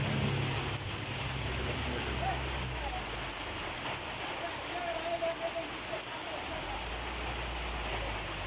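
Heavy rain pours steadily, a dense, even hiss that holds at the same loudness throughout with no pauses.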